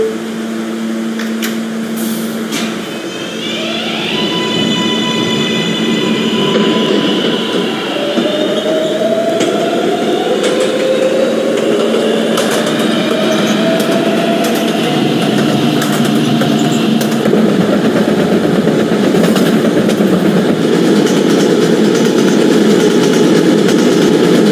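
A video-game R143 subway train on the D line hums and rumbles steadily with rising electric motor whines as it accelerates, continuous and loud throughout.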